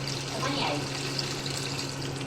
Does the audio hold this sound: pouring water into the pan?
yes